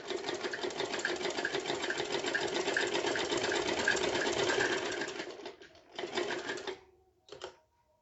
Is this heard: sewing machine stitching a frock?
yes